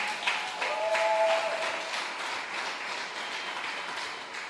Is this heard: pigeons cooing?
no